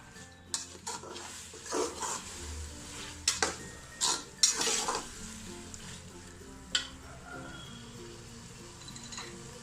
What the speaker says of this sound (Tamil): புதினா, இதெல்லாம் போட்டு நல்லா கலந்துடலாம்